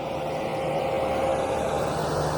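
A tractor engine runs on a beach, heard as a steady, continuous low drone with a constant hum and no break or change over the short span.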